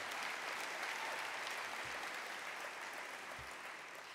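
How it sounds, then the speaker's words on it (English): Applause from an audience filling an opera house during a service awards ceremony, a dense, even wash of clapping that holds steady and sounds somewhat distant and soft. "A round of applause for this place."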